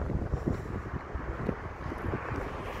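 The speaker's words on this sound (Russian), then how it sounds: "Вот почему постоянно ветер?" Steady wind buffets the microphone, a constant low rumble with gusty thumps, fairly quiet and continuous.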